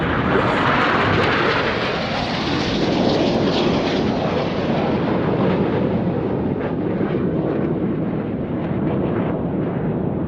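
Red Arrows jets roaring past during an air show display, a loud, continuous, broad rushing roar that swells then slowly fades as the formation passes overhead.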